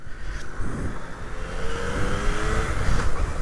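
A Yamaha MT09 motorcycle with the Y-AMT automatic gearbox revs and pulls away on a cold test ride, its engine note rising steadily under loud, continuous wind rush.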